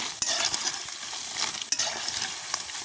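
Diwali snacks deep-frying in hot oil in a village kitchen, a steady bright crackling sizzle with occasional sharp clinks of a utensil stirring or lifting pieces, close and without talk.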